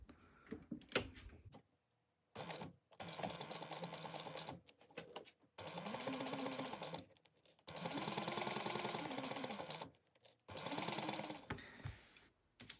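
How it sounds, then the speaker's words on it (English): A sewing machine stitches backpack fabric in several runs of steady whirring, each starting and stopping with short silent gaps and small clicks between. "We're going to sew across the top"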